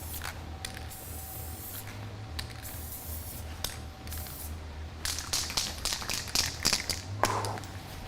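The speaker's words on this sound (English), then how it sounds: "Woo. Spray paint, you can smell that." An aerosol can of red spray paint hisses in short and longer bursts during mural painting, with clicks of the nozzle and can between sprays, close and clear over a low background hum.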